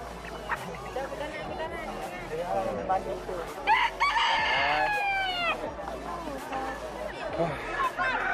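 A rooster crows clearly among chickens at a poultry yard in Bukittinggi, its call rising through the middle, with scattered clucking and someone talking throughout.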